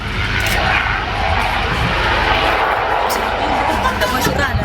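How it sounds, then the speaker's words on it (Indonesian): A military CASA aircraft, suspected to belong to the Indonesian Navy, on runway 21 at Sultan Hasanuddin Airport in Makassar. Its engine gives a loud, steady broadband roar that fills the whole stretch without a break. "Pesawat militer diduga milik TNI Angkatan Laut tergelincir di landasan pacu Bandara Sultan Hasanuddin Makassar, Sulawesi Selatan"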